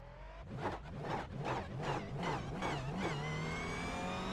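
Race car engines on race fuel in the iRacing sim rev and rise in repeated pulses, loud and close, with a steady whining tone underneath.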